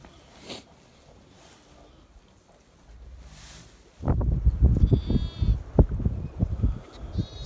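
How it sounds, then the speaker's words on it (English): Shetland ewes and lambs in a lambing shed on a Pembrokeshire farm bleat repeatedly, a dense overlapping chorus of loud nearby calls following a quieter, rustling start. "Quite nice to have a shed full of sheep"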